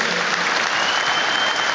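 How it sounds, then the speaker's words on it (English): A football crowd at Goodison Park, Everton's ground, applauds steadily, a dense continuous wash of clapping from thousands of fans with no break or voice standing out. "there's a round of applause that we're all joining in with here"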